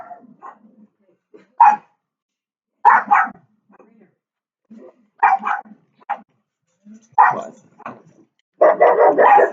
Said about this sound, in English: Sorry, dog was barking at the neighbor.